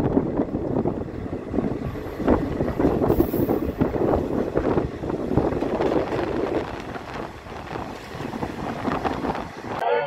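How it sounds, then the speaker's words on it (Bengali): The Black Diamond Express, train 22387, pulls into Waria station in West Bardhaman with a steady rumble of rolling carriages and wind buffeting the microphone, continuous and moderately loud throughout. "ট্রেন এসে দাঁড়ালো ওয়ারিয়া স্টেশন।"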